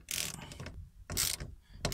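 Ratchet clicks while tightening a BMW battery terminal, two loud bursts of quick clicking separated by a short pause, close and without talk.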